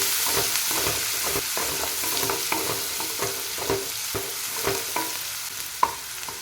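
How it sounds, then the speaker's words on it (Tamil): Onions sautéing in a pan for egg masala curry, a continuous sizzle broken by rhythmic spoon scrapes as they are stirred, close and clear with no speech. "ஸோ நல்லா வெங்காயம் வந்து வதக்கிக்கோங்க"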